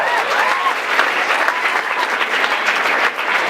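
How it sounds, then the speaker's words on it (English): Loud, dense applause from an audience at a college talent show, continuous clapping filling the whole short stretch. "One more round of applause for Scott"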